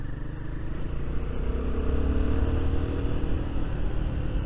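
A Royal Enfield Guerrilla 450 motorcycle ridden along rough country lanes, its engine rumbling steadily and close with throttle swelling midway, no speech.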